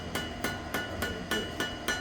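A blacksmith's hammer strikes metal seven times in an even rhythm, each close ringing blow spaced about a third of a second apart with no talk.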